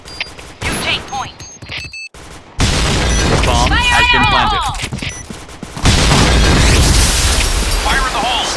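Gunfire bursts and grenade blasts from the first-person shooter Point Blank, loud and dense, with short gaps between heavy volleys and booming explosions, while voices shout over the battle.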